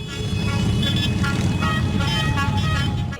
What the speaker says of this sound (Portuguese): Motociclistas também protestaram com um buzinaço